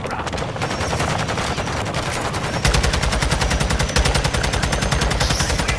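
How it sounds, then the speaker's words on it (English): Automatic weapon fire in the video game Call of Duty: Modern Warfare II, loud, rapid, evenly spaced shots that continue in sustained bursts throughout. "shoot down the commander Hilo."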